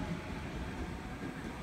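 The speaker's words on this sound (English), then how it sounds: "Train now departing" A commuter train pulling out of Burwood station in Sydney, a steady, continuous rail rumble with no voices.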